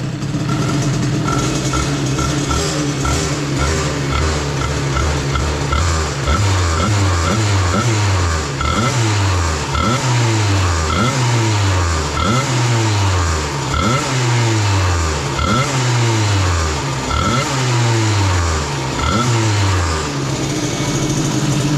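A moped engine with a 2Fast 70 exhaust and Carters Boost is revved hard and loud up close. The pitch climbs and falls in a steady, repeating pattern over a continuous buzzing drone, with no voices.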